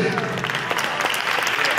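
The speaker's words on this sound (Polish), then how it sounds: "Brawa dla młodzieży" Audience at a Polish song festival in Chicago's Copernicus Center applauds young performers, a dense, steady clapping that fills the hall throughout with voices mixed in.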